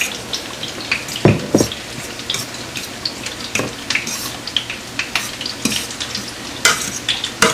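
Mushroom veggie burger vegetables frying in a pan, with a close, busy sizzle and frequent sharp scrapes and clacks of a utensil stirring against the pan, no voices.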